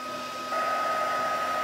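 A heat tool melting embossing powder on a stamped card, blowing a steady, close whirring roar that gets slightly louder after a moment, with no speech.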